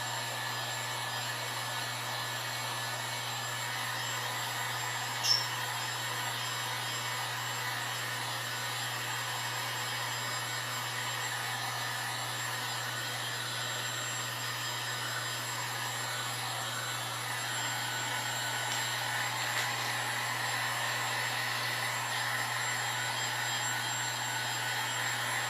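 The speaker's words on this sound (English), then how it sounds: "this gun is hot compared to my blow dryer" A heat gun blows hot air steadily to dry fresh paint and stain on a wooden birdhouse stand, a continuous close whooshing roar with a constant low hum that runs unbroken, with no talking.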